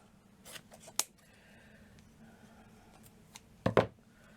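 Scissors snip through folded ribbon in a few short, crisp cuts, close and quiet, with two sharp clips near the start and a louder one near the end.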